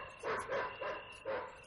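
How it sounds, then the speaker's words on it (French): A single dog barks at night outdoors, a quick run of four faint, distant-sounding barks with no talk over them. "Un chien."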